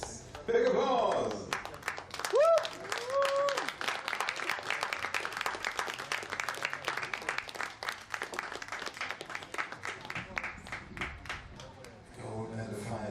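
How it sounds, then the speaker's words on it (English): A crowd at a European Championships junior trap shooting gold medal final claps in a steady patter of applause, with voices and brief tonal sounds at the start and quieter background noise near the end. "Welcome for our gold medal finalists. Big applause."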